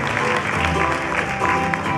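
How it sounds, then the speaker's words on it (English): An audience gives a big round of applause at a Hawaiian music performance, a dense, steady wash of many hands clapping close and loud for the full two seconds. "How about a big round of applause?"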